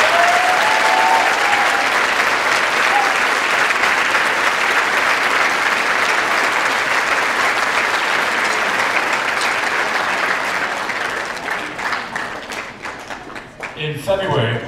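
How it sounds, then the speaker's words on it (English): Loud, sustained audience applause for Mr. Cameron fills a middle school award concert hall, a dense unbroken wash of clapping that thins into scattered claps near the end. "So if we can give Mr. Cameron a big round of applause."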